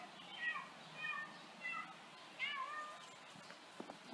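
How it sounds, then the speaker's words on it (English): A scrawny kitten meows several times outdoors on a sunny day, thin high cries repeating at a steady pace and a little distant, with faint background noise between calls. "Oh, hey, there's a baby cat."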